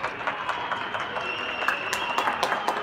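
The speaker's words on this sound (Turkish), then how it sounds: "Alkışlayın, alkışlayın" Audience applause at an April 23 event, a steady patter of many hands clapping at moderate distance with a few sharper claps standing out, no voices over it.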